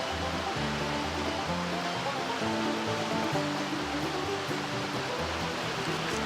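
Hot spring water flowing at a campground, a steady, close rush of running water with a constant hiss and soft gurgles throughout, no voices.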